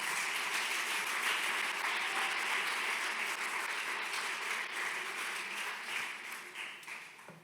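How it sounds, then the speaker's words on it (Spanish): Church congregation applauding during a worship service, a steady dense wash of clapping that holds for several seconds and thins slightly toward the end. "Dele palmas al Señor."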